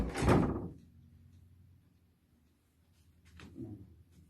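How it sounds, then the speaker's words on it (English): A door is pushed shut indoors with a muffled thud, followed by a quieter second bump a few seconds later, with low room hum between them and no speech. "Close the door."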